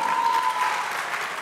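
Steady applause from a stand-up comedy audience on a Turkish talent show, a dense, even wash of clapping that sounds fairly close and carries on without pause for its short length.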